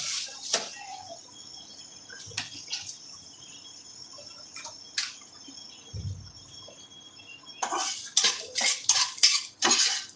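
A metal spatula clinks and scrapes against a pan while stirring and frying green chillies and coriander leaves, with sparse knocks at first, then a busy flurry of clatter at the end, and crickets chirping softly behind.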